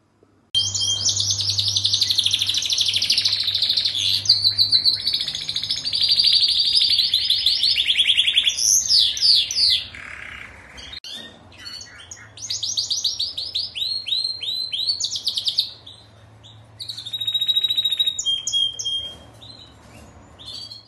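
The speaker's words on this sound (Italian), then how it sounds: "Adesso vi farò vedere un pochino come canta il canarino maschio." A male canary sings a long, loud, continuous song of rapid trills and warbling chirps, with brief pauses and changes in phrase, close up.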